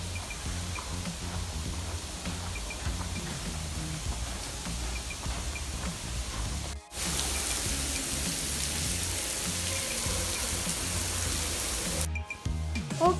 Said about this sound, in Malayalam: ഇവിടെ നിൽക്കുമ്പോഴേ നമുക്ക് ആ ഒരു മഴയുടെ ഫീലിംഗ് ഒക്കെ കിട്ടി തുടങ്ങും കേട്ടോ.